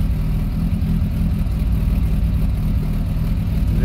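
A ZAZ Zaporozhets 4x4 engine idles steadily at close range, a continuous low mechanical hum with even pulsing and no revving, alone without talk.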